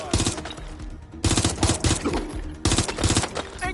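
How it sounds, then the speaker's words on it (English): Rapid automatic gunfire in the Watch Dogs: Legion game arrives in three loud, close bursts of crackling shots separated by short gaps. "Incoming fire!"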